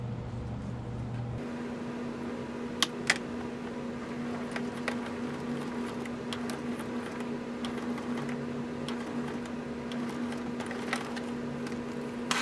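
A sewing machine stitches through a paper-bag mini journal, a continuous mechanical hum and rattle running steadily throughout with a few sharp clicks.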